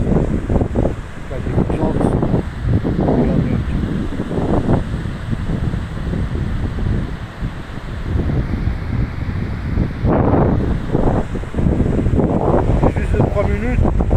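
Strong wind buffets the microphone outdoors near the sea by a coastguard post, a continuous loud rumble and roar throughout, with someone talking over it for most of the clip.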